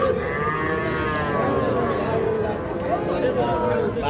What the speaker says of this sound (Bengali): এটা একটা ষাঁড় বাচ্চা।